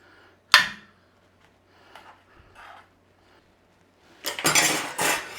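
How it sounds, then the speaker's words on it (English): Aubergine slices for moussaka being flipped and metal oven trays swapped over: a sharp clank of metal, a few soft scrapes, then a longer burst of rattling and clattering trays near the end. "we need to be flipping these over and changing over the trays"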